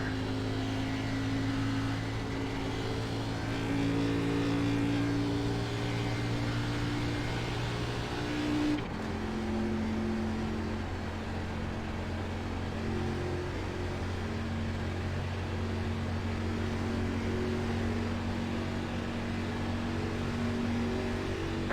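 A race car engine in the iRacing sim during an Xfinity Series race at Daytona, the motor running rough and sick, drones steadily and loud throughout, with a sudden pitch drop partway as it settles into a lower, sustained hum.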